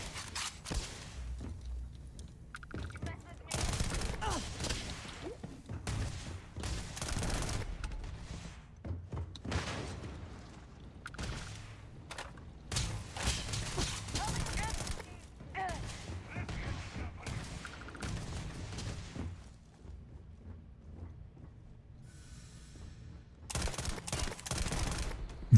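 Gunfire while shooting in the video game Starfield: dense bursts of rapid shots and thumps in fits and starts, mixed with intermittent talking.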